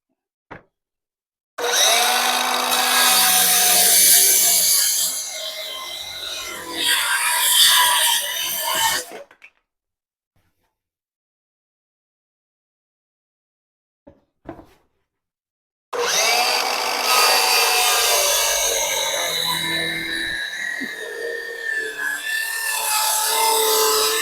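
A circular saw cuts through wood at a 45-degree bevel in two loud, sustained passes with a roughly six-second quiet gap between them, the blade whining and rasping through the board.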